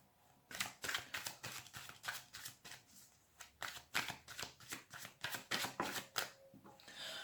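Tarot cards shuffled by hand in a steady run of about fifteen crisp riffles, close and fairly loud, with no talking.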